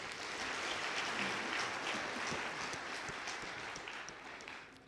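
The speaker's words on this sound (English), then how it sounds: "Let's give them another round of applause, please." A crowd at a graduation ceremony claps steadily throughout, a dense, even patter of many hands that stays strong from start to finish.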